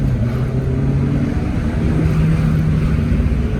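A car's engine and exhaust drone steadily and loudly while it drives, with a slight shift in pitch as it drops down a gear.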